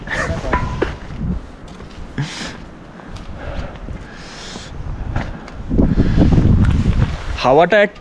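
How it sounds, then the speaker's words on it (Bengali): Strong mountain wind buffets the microphone at Kalpa in Himachal Pradesh in winter, rumbling and gusting throughout with heavy low roars that swell near the end, while people talk over it. "হাওয়াটা একটু বেশি ঝরে দিচ্ছে"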